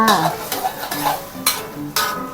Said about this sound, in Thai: ก็มาเจียวกระเทียมกันนะคะ